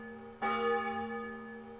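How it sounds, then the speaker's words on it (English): A single church-style bell tolls once in the video game Ib, with a sharp strike followed by a long, ringing, slowly fading hum, clear and alone with no voices. "The death bell tolls for something something?"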